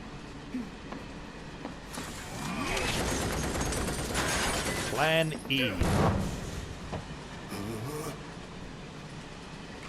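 A moving train in Final Fantasy VII Remake rumbles and clatters steadily, with metallic screeches and a shattering crash midway, under characters' dialogue.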